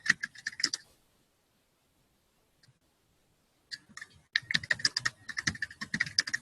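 Close, crisp computer keyboard typing as text is entered into a web page, a rapid run of clicks, then a silent pause of about three seconds, then another fast burst of keystrokes.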